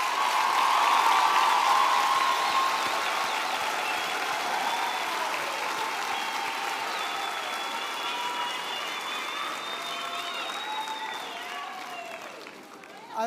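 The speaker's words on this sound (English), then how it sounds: "Can we give the Faculty of Health Sciences and the school a round of applause?" A graduation ceremony audience applauds the Faculty of Health Sciences, a broad sustained clapping wash that slowly thins, with cheering and ululating voices running through it.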